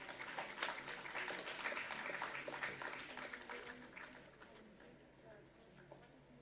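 An audience at a science awards function applauding winners, a steady wash of clapping from many hands that swells early and then gradually fades, heard at a moderate distance.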